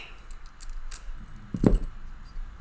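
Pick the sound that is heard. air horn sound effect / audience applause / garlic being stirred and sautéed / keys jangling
keys jangling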